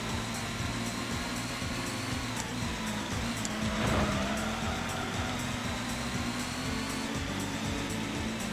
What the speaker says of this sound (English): my car accelerates way faster than the other Camaro